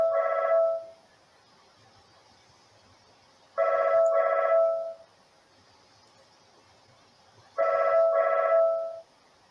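Phone ringing in three loud double-pulse bursts spaced about three seconds apart, bright electronic trills with quiet gaps between, no one talking.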